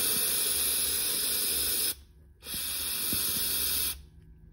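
Aerosol de-icer sprayed from an auto parts store can onto an Audi 2.0T airbox thermostat, two steady hissing bursts of about two seconds each with a short pause between, close and loud.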